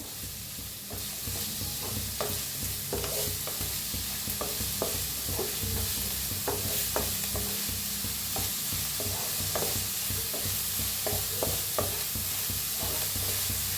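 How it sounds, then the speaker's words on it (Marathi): Finely chopped onion with a little coriander frying in a pan: a steady, dense sizzle throughout, punctuated by repeated spatula scrapes and stirring clicks, with no voices. "टाकूया बारीक कांदा आपण कापून घेतलेला। थोडीशी कोथिंबीर टाकायची आणि भाजून घेऊया कांद्याला"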